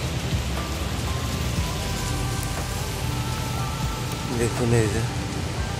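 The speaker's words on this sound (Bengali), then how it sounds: "এইটা প্রচুর মেঘ, আকাশে বৃষ্টি হচ্ছে" Steady rain hisses across a casuarina forest at Kuakata on the coast, a dense continuous patter with someone talking over it.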